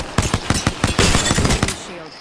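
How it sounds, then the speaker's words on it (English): Rapid gunfire rattles in Apex Legends, a close, loud burst of repeated shots in an uneven rhythm, tailing off into a quieter pause. "I'm taking shots."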